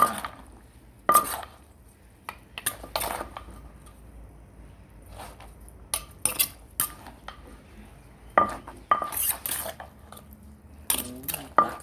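Instant noodle salad pounded in a mortar, village style: irregular sharp clacks and knocks of pestle and utensils against the mortar, some loud and close, scattered across quieter stretches.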